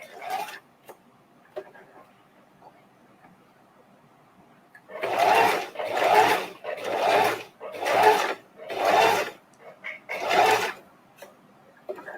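A sewing machine fitted with an open-toe foot runs a close satin stitch while appliquéing one fabric onto another. After a quiet stretch with faint talk, six loud, even bursts of stitching follow close by.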